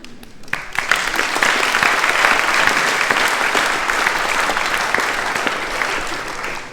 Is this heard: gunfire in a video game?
no